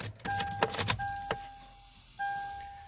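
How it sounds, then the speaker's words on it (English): A 2005 Toyota 4Runner being switched on: a quick cluster of clicks and rattles close by, followed by steady electronic chime tones that stop and start again in the quiet cabin. "turn on the car"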